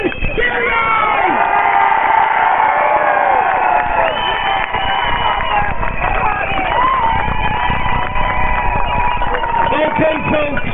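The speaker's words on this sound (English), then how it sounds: "give a round of applause for Ben Gilroy!" A large crowd at an Irish protest over indoor dining laws cheers, whoops and claps for Ben Gilroy, a dense, loud wall of voices and applause with shouting mixed in.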